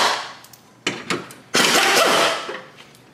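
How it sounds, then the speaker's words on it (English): A ratchet undoing 10 mm bolts on the headlight housing of a 2000-2007 Ford Focus, heard as a few sharp clicks and then a longer burst of loud, close ratcheting that fades out, with no voices. "So next we can undo these 10 millimeter bolts"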